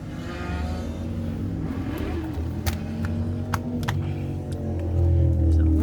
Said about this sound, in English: It's a lovely day and the motorcycles are taking full advantage of that.